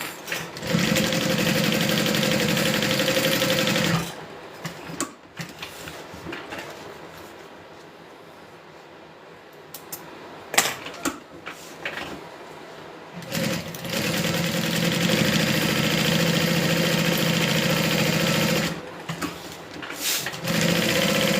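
A sewing machine stitches to baste an outside slip pocket onto a bag. Two long runs of rapid, even stitching are split by a quiet pause with handling clicks and rustles.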